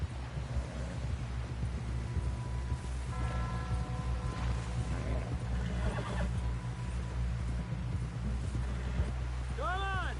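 A horse gallops steadily in Red Dead Redemption 2, riding back toward a camp, with close rhythmic hoofbeats running throughout and a brief whinny near the end.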